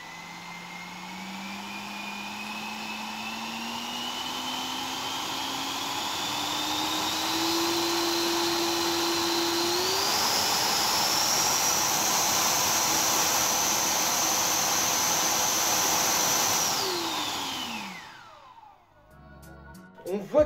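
An electric rocket stage motor on a thrust test bench spins up with a rising whine, holds a loud steady high pitch, then winds down and cuts off near the end.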